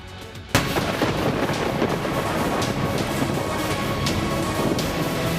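Heavy monsoon rain pours down in coastal Karnataka, a dense, loud, continuous roar that starts abruptly with a sharp crack, scattered sharper impacts standing out above the steady downpour.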